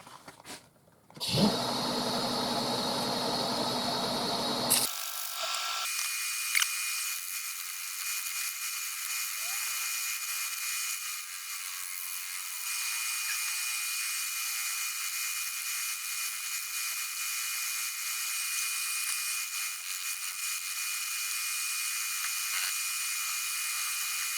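A high-pitched power sander whines steadily on a cherry crotch wood bowl after a brief louder burst at the start, a continuous sanding drone that holds for a long stretch.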